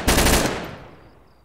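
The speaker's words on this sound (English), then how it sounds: "This is my favorite assault rifle. The G36K." A G36K assault rifle fires a short, loud automatic burst in Garry's Mod, the rapid shots blurring together before a reverberant tail fades out, with no talking.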